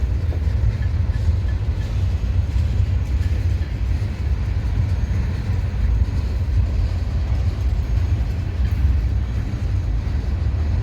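A large freight manifest train rolls past on a flyover near Barstow, a steady heavy low rumble of wagons and wheels held at constant loudness throughout, with faint clickety-clack and no talking.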